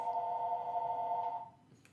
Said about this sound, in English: I'm gonna let it ring